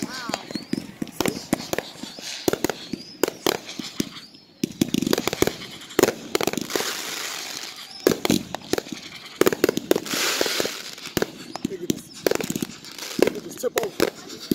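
Fireworks go off nearby in a rapid, irregular string of sharp bangs and crackling bursts, with a few short pauses between, while people talk and exclaim over them.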